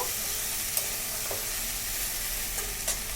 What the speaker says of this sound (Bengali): এইবারে আমি এর মধ্যে দিয়ে দিচ্ছি পেঁয়াজ কুচি। এটা দিয়ে একটু ভালো করে ভেজে নেব।